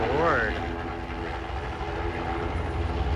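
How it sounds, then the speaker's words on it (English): A small plane flies low over Elliott Bay in Seattle before crashing into the water, its propeller engine droning steadily at middle distance while people nearby talk and exclaim. "saw a plane flying very low to the surface before it went into the water"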